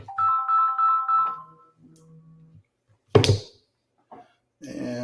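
An incoming call's phone ringtone plays as a repeating electronic melody for over a second, loud and close, followed by thumps and brief noises during an online presentation.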